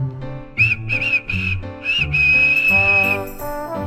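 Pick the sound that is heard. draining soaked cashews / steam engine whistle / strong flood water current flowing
steam engine whistle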